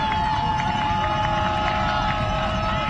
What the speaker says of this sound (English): Crowd making some noise here at Bulldog Stadium.